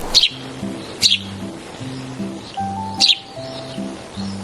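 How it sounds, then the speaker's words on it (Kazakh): A sparrow gives a few short, high chirps spaced out across a few seconds, set against a soft, steady, low-pitched background. "Торғай қандай дыбыс шығарады?"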